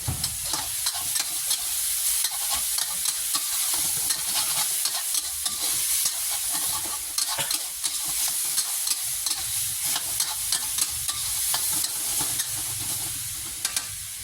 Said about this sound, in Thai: แล้วก็ผัดทุกอย่างให้เข้ากันครับใช้เวลาประมาณ 3-5 นาทีครับ